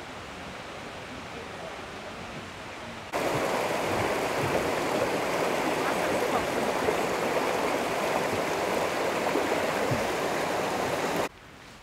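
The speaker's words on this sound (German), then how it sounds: "Ja, das war der Wasserfall." Steady roar of rushing, falling water, a dense broadband wash that suddenly grows louder and continues without a break, then drops away at the end.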